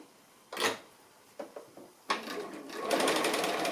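Sewing machine stitching an appliqué line, short quiet bursts of stitching and clicks that build into a sustained whirring run near the end.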